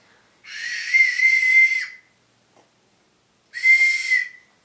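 A toy whistle gives two shrill, steady blasts, each close and loud, the first lasting over a second and the second shorter, with silence in between.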